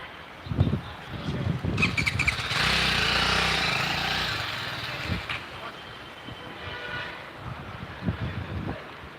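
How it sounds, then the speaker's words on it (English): A TVS Apache RR 310 motorcycle engine rumbles and swells as it passes nearby, rising to a sustained roar before fading, with thumps and faint street noise around it. "There's yet another motorcycle over here."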